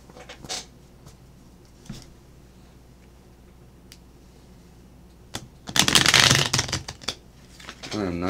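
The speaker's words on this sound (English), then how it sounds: "I'm not good at shuffling either." Playing cards are riffle-shuffled up close in one loud, rapid fluttering burst, preceded by a few soft taps and clicks of handling.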